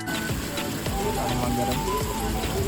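Steady rain patters continuously on a surface at a farmhouse, a dense even wash of drops with some background noise mixed in.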